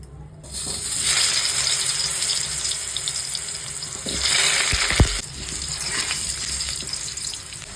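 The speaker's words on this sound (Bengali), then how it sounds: "হালকা লবণ দিয়ে আলুগুলো ভেজে নেব" Potatoes frying in hot oil with a little salt in a kadai, a steady close hiss and sizzle that swells and eases, with a few brief clunks partway through.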